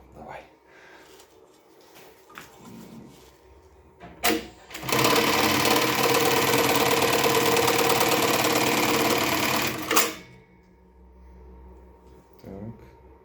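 A Jack JK T1900 bartack sewing machine stitches a 26 mm bartack through four layers, a loud rapid mechanical rattle lasting about five seconds and bracketed by clunks, with quiet speech before and after.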